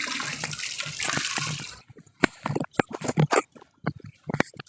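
Tap water runs steadily while washing at home, then cuts off, leaving close splashes, drips and the clatter of rinsing items in short irregular bursts.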